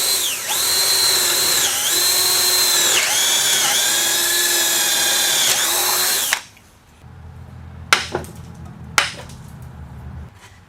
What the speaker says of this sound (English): Now it's just a matter of boring and chiseling out the waste.